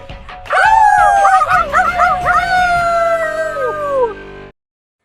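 A dog howls loudly and close, a long wavering yowl with yips and whimpering inflections, trailing off into silence.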